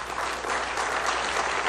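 Conference audience claps steadily, dense and even, for a short burst.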